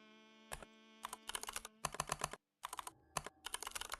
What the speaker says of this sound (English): The keyboard sounds are loud today.